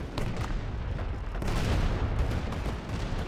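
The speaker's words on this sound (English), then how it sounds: "Listen roar of the Soviet guns." Soviet artillery guns fire in a real-time strategy war game, a dense, continuous barrage of booming, crackling blasts that rumble loudly and steadily without letup.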